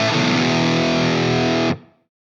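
Ibanez AS7328 baritone guitar through an FM9 on the bridge humbucker plays a short, loud, heavily distorted riff chord, held steady for under two seconds before a quick cutoff and brief decaying ring.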